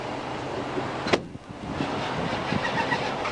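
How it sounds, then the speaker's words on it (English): A car's engine idles at the end of a ramp during a police pursuit while the driver refuses to shut it off. The rumble is steady and close, with one sharp mechanical clack partway through. "The driver is refusing to turn off the engine."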